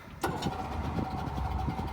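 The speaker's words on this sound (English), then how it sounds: "I'll now start the engine up." A small boat's outboard engine starts on a beach with a sharp catch, then settles into a steady, loud idle that runs on alone.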